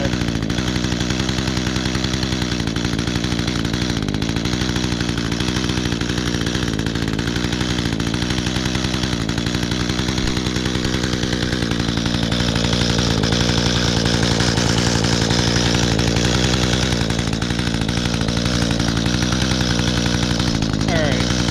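A chainsaw engine runs continuously at close range, a loud steady buzz that rises in pitch as it revs through the middle and then holds, with no pauses.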